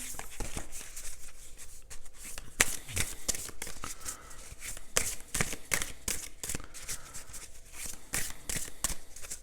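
A deck of cards is riffled and shuffled up close, producing quick bursts of crisp flicking and snapping in an irregular rhythm with short pauses between them, fairly quiet overall.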